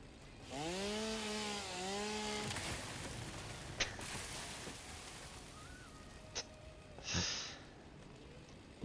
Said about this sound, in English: we go over here with the chainsaw and we cut down this tree